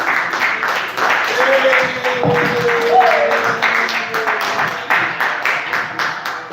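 Audience claps and cheers at a comedy open mic night as a comic leaves the stage, a lively burst of applause with music or a whistled tone mixed in and voices underneath.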